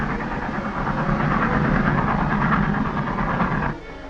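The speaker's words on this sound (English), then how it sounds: "Look, the train came back for us." A train, from a 1944 western serial, rumbles in loud and close with a steady clattering roar of wheels and engine that drops away abruptly near the end.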